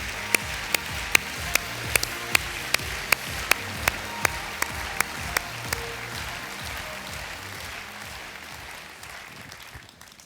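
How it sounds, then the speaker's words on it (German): Dense applause from a conference audience fills the room over backing music with a regular, evenly spaced beat, the clapping tapering off toward the end. "Let's give them a big hand."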